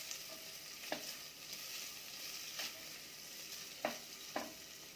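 Curry leaves and ginger paste fry in a pan with a steady soft sizzle, broken by several sharp scrapes and clicks as a spoon stirs them, close and without talk.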